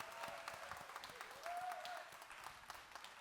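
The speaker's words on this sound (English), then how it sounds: "Big round of applause for Lisa Blair, ladies and gentlemen" An audience applauding sailor Lisa Blair after her talk, with steady dense clapping filling the room at a moderate distance while a faint voice rises briefly above it.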